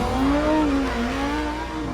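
A Lamborghini Huracán Performante drives into a corner, its engine a loud, steady roar whose pitch dips and climbs as it goes. No one speaks.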